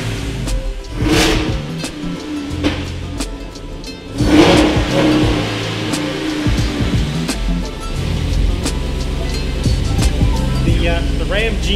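A lifted Jeep Wrangler with a 392 V8 engine revs loudly and close by, its deep roar rising and falling in surges with a sharper burst midway, while people talk over it.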